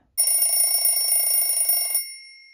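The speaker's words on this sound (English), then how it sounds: "A sleepy Noddy switched off his alarm clock." A bright electronic alarm clock rings in a rapid continuous trill for about two seconds, then stops abruptly with a short fading ring.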